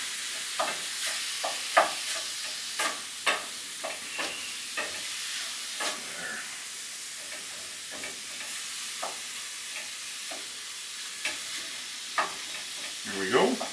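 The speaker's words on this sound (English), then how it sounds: "So now we'll give this a stir, and this will help mix in that salt and pepper that we put in here." A spoon stirs American goulash with salt and pepper in a frying pan, giving repeated scraping strokes in an uneven rhythm over a soft, steady sizzle, close but moderate in level.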